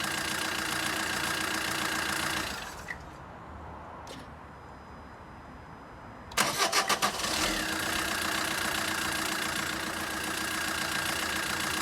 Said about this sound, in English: It's been running for about a minute and then it just fired up there